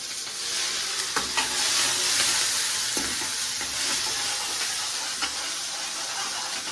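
Garlic, chili, onion and tomato paste fry in oil with mustard seeds, making a dense, continuous sizzle and hiss with a few quiet stirring clicks.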